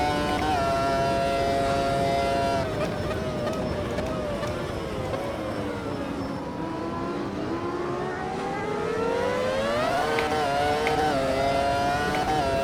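A massive V10 race car in the Automobilista 2 racing game revs hard toward 18,000 RPM, a loud, continuous high-pitched engine scream that rises, dips and climbs again across the pass.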